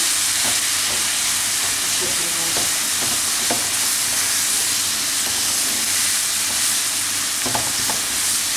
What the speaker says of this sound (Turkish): Şimdi proteyi biraz kavuracağım.